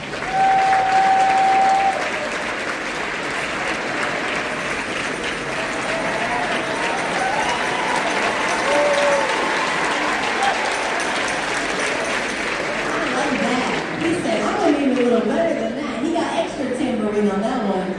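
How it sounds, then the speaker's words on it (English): Audience applause honoring KP Singh, a two-time Secretary of State honoree, at a birthday party gathering; steady, loud clapping from a crowd that fills the whole stretch, with some voices mixed in and a faint tone early on. "let's honor Kimberly Singh with a round of applause"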